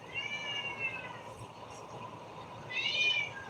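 A cat meows indoors a couple of times, a drawn-out cry near the start and another around the end, fairly faint over a steady background hum.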